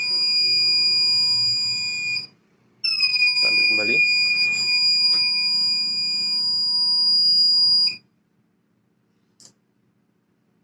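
A loud, steady electronic alarm tone from a trash-collection machine prototype, triggered by a load over 150 grams, sounds twice, pausing briefly between, with a short spoken phrase and some clatter, then stops into near silence.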